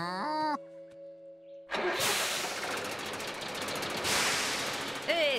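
An engine cranks and catches, then roars loudly and steadily for several seconds after a brief quiet stretch, with a short tonal sound at the start.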